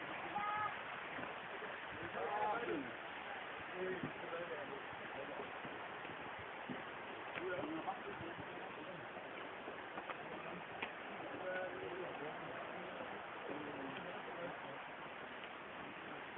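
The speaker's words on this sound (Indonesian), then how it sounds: "Nah, sahabat, di sana ada sungai." Steady, soft rushing of a broad river flowing beside a bamboo bridge in a Baduy village, low and continuous, with someone talking over it at times.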